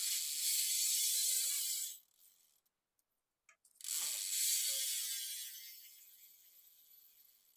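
A Cult Corey Walsh complete BMX bike's rear hub buzzes with rapid, loud freewheel clicking as the wheel spins, stops briefly for a moment of near silence, then resumes and slowly fades as the wheel slows.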